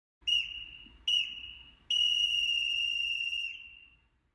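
A shrill whistle blows three times, two short blasts followed by one long sustained blast, loud and clear against silence.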